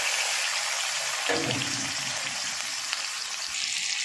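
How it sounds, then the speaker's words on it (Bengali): Onions and tomatoes with black cumin seeds fry in a pan, giving a steady close sizzle with a brief stirring scrape partway through. "বন্ধুরা আমার পেঁয়াজ ভাজা ভাজা হয়ে গেছে"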